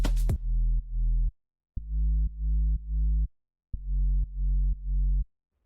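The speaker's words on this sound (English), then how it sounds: "it's pretty much just a sub bass" A deep sub bass from an Afro house track plays alone in short sustained notes, grouped in threes with brief silences between groups, preceded by a quick percussive hit.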